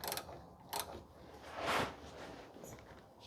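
Fill plug being tightened on the U660E transmission of a 2015 Toyota Sienna 3.5, a few faint ratcheting clicks and metallic creaks from a hand wrench, quiet and close with no talking.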